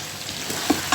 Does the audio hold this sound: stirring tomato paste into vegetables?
yes